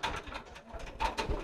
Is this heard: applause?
no